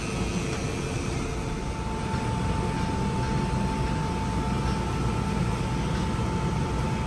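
A rifle-barrel machine cuts the forcing cone and chambers in a firearms factory, giving a constant loud mechanical drone with a steady tonal hum and no breaks.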